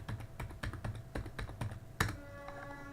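Computer keyboard typing a wireless network password, a quiet close series of separate key clicks at an uneven pace, ending with a firmer keystroke.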